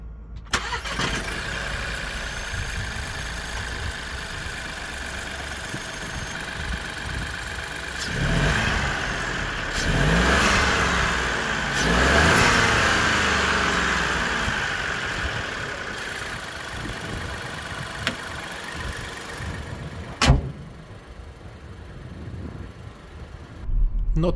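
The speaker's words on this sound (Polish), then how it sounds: "typowa trzycylindrówka, która zaskakująco równo pracuje" A Skoda Scala 1.0 TSI three-cylinder turbo engine, 115 hp, starts and idles steadily with a smooth hum, revving up a couple of times before settling back to an even idle.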